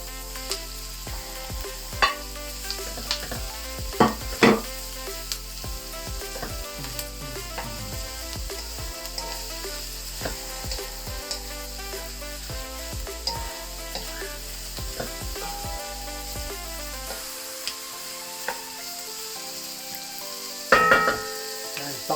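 Meat for pakbet sizzles and fries in a hot pan: a loud, continuous crackling hiss with occasional sharper pops and stirring clatter, no talking.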